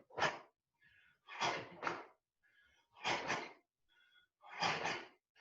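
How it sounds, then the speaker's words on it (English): Loud, forceful compression breaths during a karate exercise: four strong bursts of exhaled breath, some doubled, with short pauses between them, close and clear with no talking. "I'm making the breathing loud so you can hear me"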